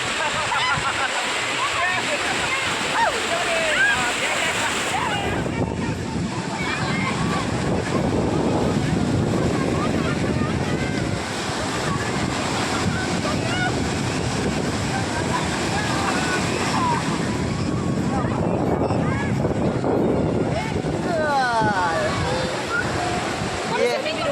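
Sea waves crash continuously at Golden Beach, a Blue Flag beach, making a broad roaring surf with wind buffeting the microphone and people talking beneath the steady wash of water.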